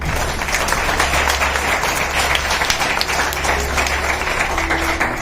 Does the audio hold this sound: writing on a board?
no